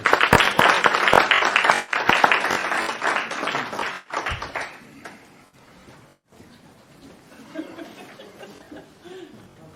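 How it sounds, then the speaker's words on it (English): Applause with scattered clapping and light laughter at a county board meeting, loud and dense for about four seconds before fading out into quiet room noise. "And if we could maybe give one more round of applause to Lynette."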